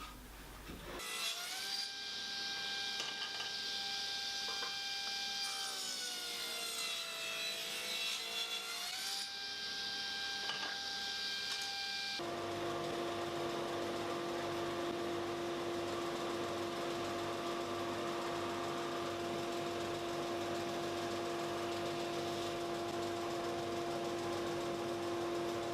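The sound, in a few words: sanding perduk wood strips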